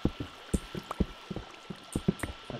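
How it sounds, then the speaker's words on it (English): Flowing water in a video game, heard as a run of bubbly, gurgling liquid pops at an uneven rhythm, moderately close and alone with no talk. "I hear water."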